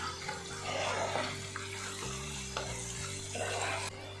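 Chili powder, turmeric and salt are stirred into an egg pickle in a hot pan, producing a continuous oily sizzle with scraping stir strokes and small clinks, close and steady with no talking.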